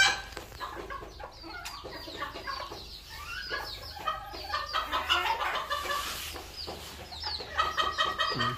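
Ga Tre Bac bantam chickens, including yellow-feathered birds and a brood of chicks, cluck and cheep continuously in a backyard coop, a busy overlapping chatter of calls at close range.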